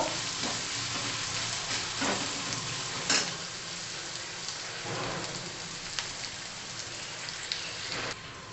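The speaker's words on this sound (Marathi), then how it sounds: "कांद्याचा कच्चेपणा जाईपर्यंत आपण परतून घेणार आहोत कलर चेंज होईपर्यंत" Onions with ginger-garlic paste and curry leaves sautéing in a pan, a steady hissing sizzle with occasional stirring clicks and scrapes, fairly quiet and continuous.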